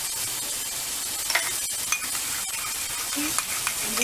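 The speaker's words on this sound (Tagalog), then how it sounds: "Mix the butter, garlic," Butter, garlic and thyme leaves are stirred together for a grilled pork glaze, giving a steady, soft mixing and scraping sound with a few light clicks, close by and with no talking.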